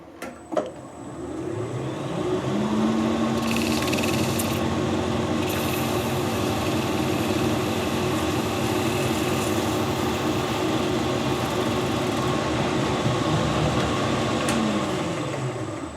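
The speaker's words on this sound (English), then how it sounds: "Just put a light cut on there to take the marks off where it's spun round the chuck." Metal lathe taking a light finishing cut on a workpiece spun in the chuck, a steady loud motor hum with a faint tonal whine from the cut, running continuously after a brief start-up clunk.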